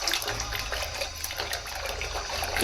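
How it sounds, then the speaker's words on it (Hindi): Half a glass of water pours into a batter of gram flour and yogurt, making a steady splashing gush that runs the full length without any talking. "अब मैं इसमें आधा गिलास पानी ऐड कर रही हूँ।"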